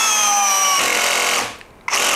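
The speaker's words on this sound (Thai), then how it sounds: "เมื่อกี้ที่คลัชมันทำงานก็คือมันแก๊กๆๆๆ" A PUMA PM-1016BL 16V cordless drill drives a screw at its highest torque setting, giving a loud, steady buzzing rattle as the clutch slips and clicks. The noise dips out briefly near the end, then bursts back in.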